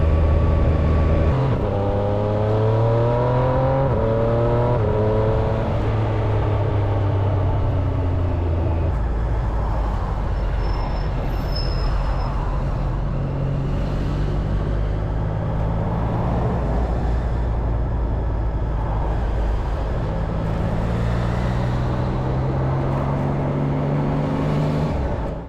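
Continuous motorway traffic noise heard from a Triumph Street Triple RS motorcycle on a busy Friday afternoon, with engine tones rising and falling through gear changes under a steady wind roar.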